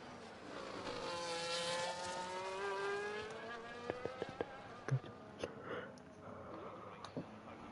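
F1 race car engine in the F1 24 video game at the Brazilian GP, a sustained high whine sweeping up through the gears on a lap, then a few sharp clicks near the end.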